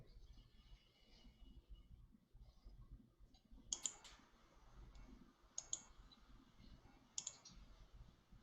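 Sharp clicks picked up over a player's open microphone during an online game session, appearing as a few small clusters of crisp double clicks over a low background murmur.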